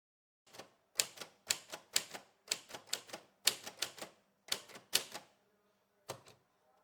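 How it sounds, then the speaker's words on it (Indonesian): A typewriter tapping out the Indonesian proclamation text: crisp, close mechanical key strikes in quick irregular bursts of two or three, with short pauses between, heard alone in a quiet room. "Soekarno memerintahkan Sayuti Melik untuk mengetik teks proklamasi Soekarno"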